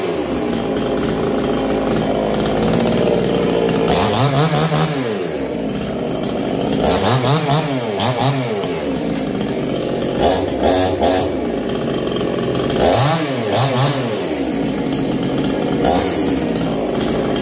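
A Chinese-made chainsaw runs loud and close, its engine droning steadily and revving up and down several times in repeated bursts.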